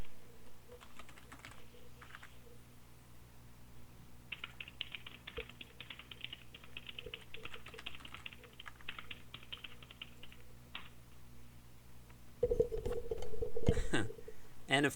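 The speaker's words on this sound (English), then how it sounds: "just a few minutes ago you heard me typing, I just entered this password" Computer keyboard keys tapped in quick bursts while entering a password, close and fairly soft, with a louder clatter of keystrokes near the end and no talking over it.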